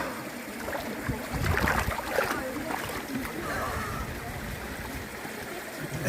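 Hot spring water with a sulphur smell flows out of a mountainside in the wild, a steady close trickle and splash with brief louder gushes, voices talking nearby.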